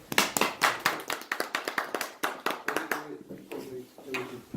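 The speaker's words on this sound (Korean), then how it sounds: "박수로 시작하죠" Audience clapping at the start of a Korean lecture or talk, a series of distinct sharp claps in an irregular burst that thins out toward the end, with a voice speaking underneath in the later part.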